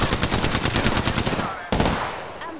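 Rapid automatic gunfire from a video game shooter, a dense stream of loud bursts that stops briefly and then resumes with a single sharp shot trailing off.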